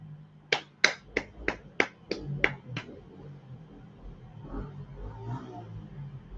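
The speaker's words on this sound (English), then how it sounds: "Clap it up." Eight sharp, evenly spaced claps ring out alone and close, slightly slowing, followed by quiet room noise and faint murmuring.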